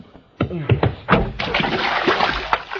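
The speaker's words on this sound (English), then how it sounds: "oh, don't pour that water on me now." Water splashes and sloshes in a bathtub, with a sharp splatter followed by continuing loud, close sloshing and a few thunks, while a voice speaks briefly in the middle.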